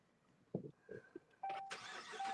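A car engine turns over and catches after a couple of soft clunks and clicks, then settles into a steady running hum close by.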